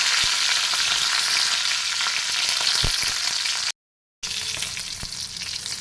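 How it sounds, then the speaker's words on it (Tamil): Dried red chillies frying in hot oil in a kadai give a loud, dense sizzle with a few stirring knocks, cut by a brief silent gap before the frying resumes. "இப்போ கடாயில் வந்து எண்ணெய் காஞ்சிடுச்சு இதில் வந்து ஒரு ரெண்டு காஞ்ச மூணு காஞ்ச மிளகாய்"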